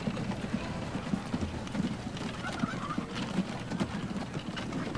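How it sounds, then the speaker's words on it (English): Steady clip-clop of horse hooves pulling a carriage in the video game Transport Fever, a continuous rhythmic trot over a busy background hum. "Are we seeing the end of the horse and carriage?"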